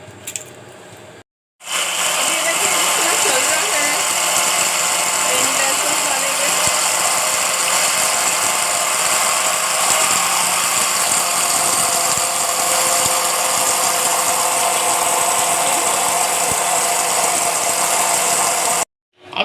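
An electric mixer whirs loudly and continuously as eggs are blended into cake batter, starting after a short gap and running nearly unbroken until it cuts off at the end.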